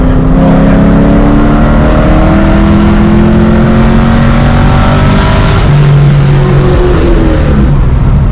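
Loud Cadillac CTS-V V1 with a BTR cam revving in third gear to about 3,000 rpm, a raspy rising drone heard close from inside the car, steady and unbroken.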